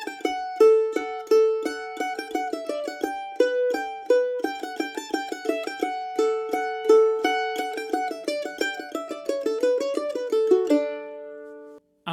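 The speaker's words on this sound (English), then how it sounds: "we're going to learn the tune Liberty, which sounds like this" A mandolin plays the fiddle tune Liberty solo, bright picked notes running quickly and evenly through the melody, close and clear, ending on a final held note.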